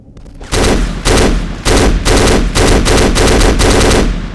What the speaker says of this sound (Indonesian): Oke, kita tembak yang atas, guys.